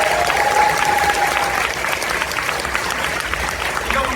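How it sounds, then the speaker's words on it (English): A large convention audience at an opening ceremony applauds loudly and continuously, the claps blending into a dense roar with a few cheers mixed in. "huge round of applause"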